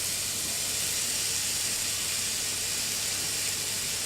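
Vegetables, including sweet corn, hit a hot pan for a chicken pasta bake in a school kitchen, giving a steady, bright hiss that holds evenly throughout with no talk.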